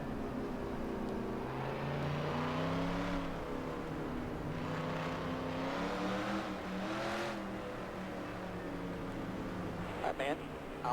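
A race car engine drones and revs in a racing video game after a wreck, a steady loud tone rising and falling in pitch with shifts, with a voice talking over it.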